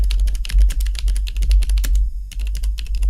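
Rapid typing on a computer keyboard, dense clicking keystrokes close up with one brief pause, loud and continuous over a low steady hum.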